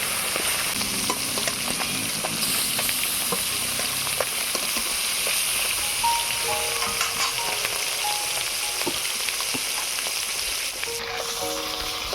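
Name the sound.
koi fish frying in mustard oil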